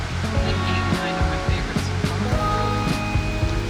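Rapids rushing along a river in Parc national des Hautes-Gorges-de-la-Rivière-Malbaie, heard as a steady, loud broadband roar of churning water that fills the clip without pause, with faint speech-like murmurs mixed in.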